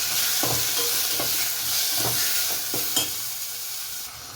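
Tomato is stirred into onions frying in oil for an egg dish. A steady hiss of sizzling fat sits under rhythmic scraping strokes of a spoon against the pan, and there is no talk.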